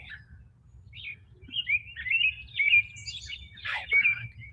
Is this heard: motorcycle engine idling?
no